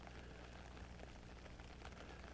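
Steady rain patters on surfaces in an outdoor cemetery, a constant soft hiss with small scattered drops and no voices.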